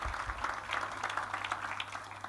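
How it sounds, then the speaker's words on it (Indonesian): A church congregation claps during a worship service, a steady, moderately distant patter of applause sustained throughout without break. "Tepuk tangannya, boleh yang paling meriah buat Tuhan kita."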